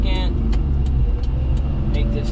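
Daihatsu HiJet kei truck engine revving hard on a highway, a steady loud low drone with brief higher bursts as the throttle is blipped, set against road and wind rumble.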